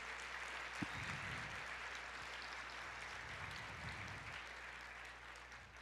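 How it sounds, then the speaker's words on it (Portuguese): A church congregation applauding, a faint, distant wash of clapping that carries on evenly, with one brief knock early on and a low hum beneath. "vamos aplaudir ao Senhor"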